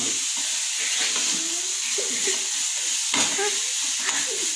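Onion masala sautés in a pan for paneer gravy: a continuous bright hiss and sizzle with occasional scraping stirs, close and steady.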